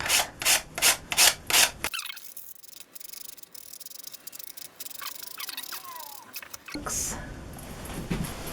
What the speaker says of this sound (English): So now I'm just going to go over everything with my 100 grit and get those edges nice and smooth